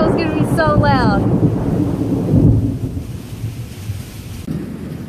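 Thunder rumbles loud and deep during a storm, swelling and fading over several seconds amid wind and rain noise, with a few chirping bird calls at the start.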